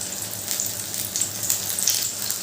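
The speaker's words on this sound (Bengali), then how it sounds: "এবার আমি এটা উল্টে পাল্টে ভেজে নেব" Raw banana fritters coated in gram flour batter fry in hot oil, giving a steady, close, crackling sizzle with small bursts of popping throughout.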